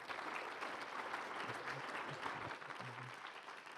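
Steady applause from an audience at a Three Minute Thesis final competition, a dense, even patter of many hands clapping throughout, fairly distant and moderate in level, with faint voices underneath.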